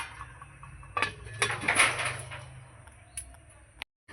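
A metal pot lid is set back on a pot of duck eggs cooking on the stove, with a few light clinks and a clatter followed by a short sharp knock, all close by.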